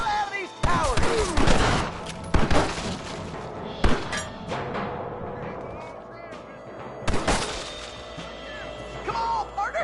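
Heavy gunfire at towers in the video game Red Dead Redemption: loud bursts of shots and booming impacts hit at irregular intervals, with crashes and rolling echoes in between and a voice shouting over the fighting.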